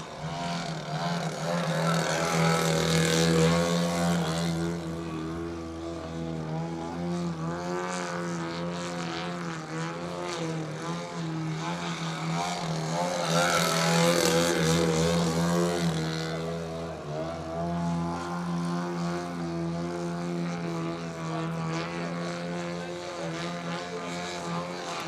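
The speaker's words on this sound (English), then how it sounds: "I'm going to bring the microphone in so you can hear this beautiful radial" A Stearman biplane with a Moki 300 radial engine runs on the runway, a steady loud throbbing drone with two swells in intensity, heard alone without talk.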